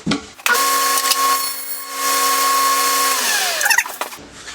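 Woodworking machine, likely a planer, feeding a glued-up panel through for a welding helmet box project: a loud, steady motorized whine with a sharp onset, running about three seconds before a clattering rundown, close and alone.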